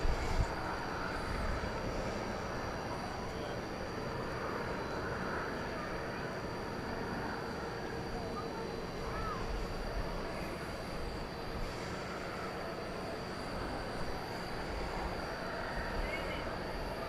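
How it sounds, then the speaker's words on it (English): An American Airlines Boeing 737-800 coming in to land at DFW Airport at night gives off a steady, distant jet engine roar that holds level throughout, with a faint high whine above it. "Flight 2194 American Airlines coming in from the Big Easy of New Orleans, a 737-800, with a very bright headlight tonight"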